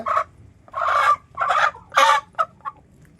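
A native-breed hen calls loudly and close by in a run of five or six harsh clucking squawks, short bursts spaced irregularly with brief quiet gaps between, and no voices.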